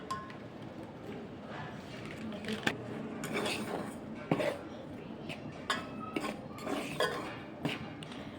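Spoon clinking and scraping in a bowl while boiled cauliflower is mixed with coriander powder and garam masala; irregular metallic taps and stirring scrapes, close and fairly quiet, with faint background sounds.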